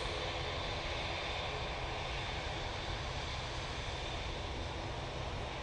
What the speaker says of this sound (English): Second of the two 787-9 Dreamliners going back to Doha.